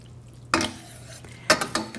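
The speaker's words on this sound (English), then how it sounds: "we'll just stir this all in and get it good and hot" Fresh edamame stirred in a hot pot: a long scraping sweep of a utensil, then a quick run of clinks and scrapes against the pot's sides, close and moderately loud.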